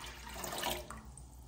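Water running into a cooking pot for homemade Guyanese sorrel drink, a steady close splashing stream like a tap filling the pot, with no talking.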